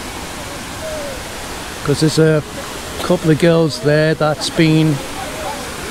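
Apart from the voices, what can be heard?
waterfall at Libnaman Falls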